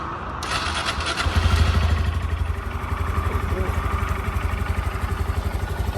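Motorcycle engine idling at a motorcycle shop, a loud close rhythmic low throb that swells briefly, then settles into a steady loping putter.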